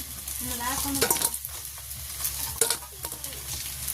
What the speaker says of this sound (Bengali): একদম কড়া করে ভাজি করলাম